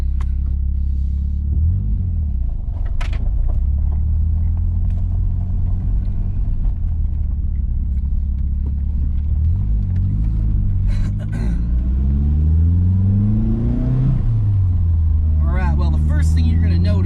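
A 1985 Toyota Celica GTS turbo coupe pulls away, with a low engine rumble that steadily builds through several rising revs and shifts, heard from inside the car with faint cabin noise.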